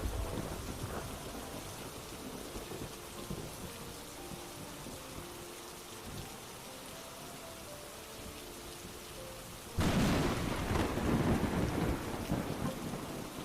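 Steady rain patters in the video game Murder Diaries, with low thunder rumbling underneath until a loud, close thunderclap bursts in near the end and keeps rolling.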